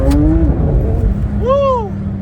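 A supercar accelerates along the road, its engine pitch sweeping up through rising revs beneath a steady low drone, loud and close.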